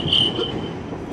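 A voice mimics a subway train, giving a steady rumbling, hissing wash with a high squeal running through it, loud and close, like a train on the rails of an NYC subway.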